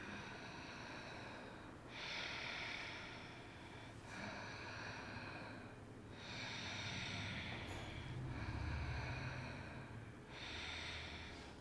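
A person rhythmically imitates Ujjayi breathing for a yogi entering Sirsasana (headstand) in Ashtanga yoga. Long, hissing, throaty breaths come in steady waves about every two seconds, close and moderately loud, with no talking.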